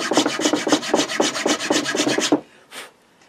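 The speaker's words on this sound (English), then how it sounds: "So we'll just make these cuts with our hacksaw now." A hacksaw cuts a shallow slot in a guitar nut with about fourteen quick, even back-and-forth rasping strokes, close and crisp, then stops, followed by a single softer scrape.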